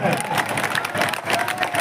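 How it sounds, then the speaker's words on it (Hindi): Applause and crowd noise at a political election rally in Madhya Pradesh, a dense, loud wash of clapping mixed with cheering, with voices faintly audible amid the noise. "जोरदार ताली से आप लोग स्वागत करें।"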